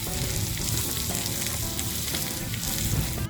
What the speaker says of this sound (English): I am going to sear the pork belly block for about 10 minutes on the top, bottom, and all sides.